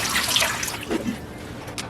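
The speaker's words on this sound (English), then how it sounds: "I'm going to just take a strainer out of the kitchen. It's basically a screen, and pour the water through this." Water is poured through a kitchen strainer over soaking Nordmann fir seeds, a close, steady splashing trickle that swells briefly and then settles into a continuous run.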